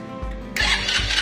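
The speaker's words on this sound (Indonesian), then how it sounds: "kita langsung starter." A Honda RXF 50 dirt bike on its starter, a brief close whirr of cranking pulses before the engine catches and runs loudly.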